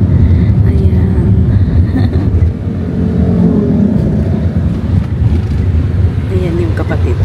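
A vehicle passes on a road near the sea in Cebu, its broad engine and road rumble filling the clip steadily and fairly loud against busy outdoor background, with people talking nearby.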